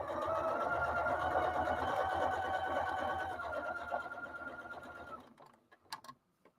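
A sewing machine runs steadily while stitching a quilt, a loud continuous whirring drone for about five seconds before it stops, followed by a few faint clicks and handling noises.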